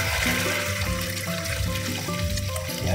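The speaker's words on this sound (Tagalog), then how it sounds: "Siyempre, lagyan natin na lang water." Water pours into a cooking pan from a container in a home kitchen, a steady continuous rush and splash filling the whole clip, with a faint background hum and no talking.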